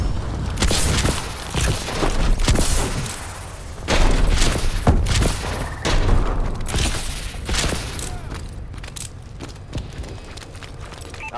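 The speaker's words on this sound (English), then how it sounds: "Friendly missile strikes incoming." Explosions and heavy thuds from incoming missile strikes in Call of Duty: Advanced Warfare, a dense barrage of booms and crashes layered over constant battle noise, loud and close, with several sharp impacts standing out.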